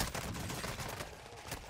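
Rapid, sustained bursts of M13 rifle fire in a first-person shooter video game, dense and continuous at steady loudness throughout with no pauses.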